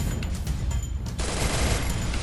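Rapid gunfire from a Free Fire match, a brief burst of loud, dense shots continuing through the whole moment with no talk.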